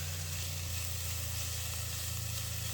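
Sauerkraut stewing in a frying pan gives a steady, even sizzle and hiss that stays close and constant from start to finish, with no speech.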